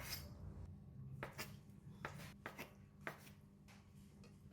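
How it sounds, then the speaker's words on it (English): Seafood tofu is sliced into bite-sized pieces on a cutting board, a series of quiet knife taps and chops at an irregular pace, close and faint, with no talking. "Cut seafood tofu into bite-sized pieces."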